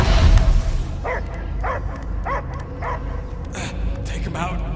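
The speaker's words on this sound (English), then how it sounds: "I hear only barking." Dog barking in the video game Marvel's Guardians of the Galaxy: a regular series of five or six barks, then a couple of quicker yips, over a steady low game soundtrack and ambience.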